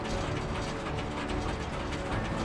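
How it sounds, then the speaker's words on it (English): Twine wrapping mechanism of a Krone Bellima round baler running, a steady dense mechanical clatter and ratcheting whir that holds at even loudness throughout, with no voices. "You start twine wrapping with a touch of a button."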